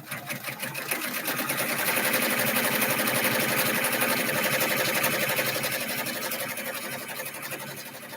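A sewing machine stitches heavy fabric for a bag, a steady rapid mechanical whirr of the needle running continuously and fairly close, swelling slightly in the middle and easing toward the end.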